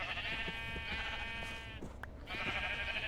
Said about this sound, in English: And Zane, can you lure the sheep over to you over there in the corner?